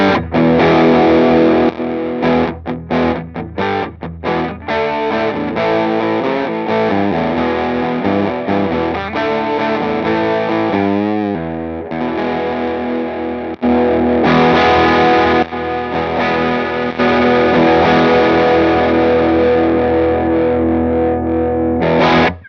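An electric guitar with humbucker pickups plays through an MC Systems NKM Dynamic Drive pedal, giving a loud, thick, heavily overdriven tone with sustained chords and quick chopped strums, continuous and alone with no talking.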